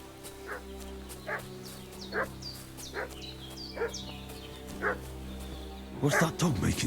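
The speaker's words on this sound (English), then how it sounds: "What's that dog making such a fuss about?" A dog barks repeatedly in the medieval setting of Kingdom Come Deliverance 2, about seven evenly spaced barks at moderate distance over a steady ambient hum, with a voice starting at the end.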